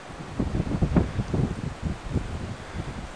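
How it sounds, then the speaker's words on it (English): Wind buffets the microphone outdoors in a grassy area ringed by prickly ash, making low, uneven gusty rumbles and rustling that rise and fall close up across the whole stretch. "A little windy."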